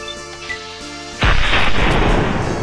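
A single heavy rifle shot in the video game Fallout 3 cracks out loudly after a quiet, tonal stretch, then a booming tail decays for over a second.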